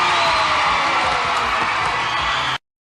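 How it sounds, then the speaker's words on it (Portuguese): A studio audience on a 1988 Brazilian animal TV game show roars and cheers for contestant Marquinhos Moura, a loud, dense crowd wall of shouting that cuts off abruptly near the end. "Eu quero ver a torcida do Marquinhos Moura."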